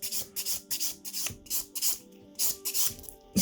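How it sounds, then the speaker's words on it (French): A nail buffer rubs across fingernails during a French manicure: quick rhythmic back-and-forth strokes, close and soft, each a brief airy swish with short gaps between. "je viens passer un petit coup de buffer"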